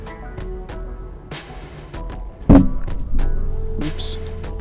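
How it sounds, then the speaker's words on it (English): A microphone stand gets knocked with a sharp, loud thump partway through, followed by a brief rattle over faint background clicks and noises. "Oops. Sorry about my mic stand."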